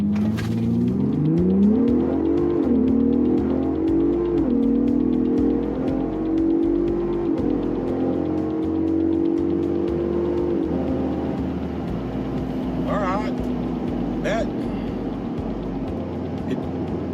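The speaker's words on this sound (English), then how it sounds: "We're going to give it, rev up the RPMs a little bit and brake launch it." A 2023 Ford Bronco Raptor in sport mode revs hard, then brake-launches and accelerates, its engine note climbing and holding a loud, close, sustained roar that slowly eases off toward the end.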